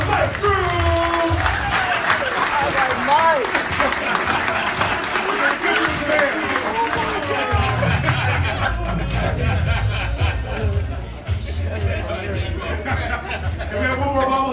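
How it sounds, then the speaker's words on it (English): Audience applauding an award winner at a small business awards event, sustained clapping mixed with crowd chatter, laughter and voices talking over it, tapering toward the end. "Give a round of applause to Mike Drews."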